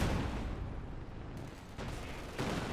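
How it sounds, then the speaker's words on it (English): A Katyusha rocket artillery creeping barrage volley in a war video game: a dense, continuous roar of launches and impacts, loud and rumbling throughout, swelling in bursts near the end. "Katusha ready to fire, using the creeping barrage"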